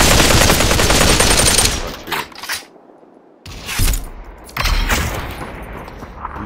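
Loud bursts of gunfire in the video game Population One, a dense rapid stream at first, then short gaps, then renewed shots, close and sharp with no talking.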